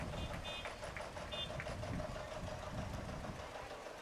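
A motorized tractor engine idles and rumbles in a steady low drone at a small-town strawberry festival parade, with a few faint beeps over it.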